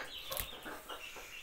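Soft clucking and peeping from chicks eating, a few short calls close by over a quiet background.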